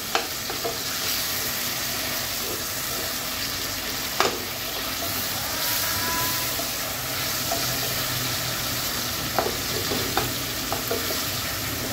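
A large fish head with plenty of garlic paste fries in a pan for muri ghonto, giving a continuous close sizzle with occasional spoon scrapes and clacks against the pan; no voices.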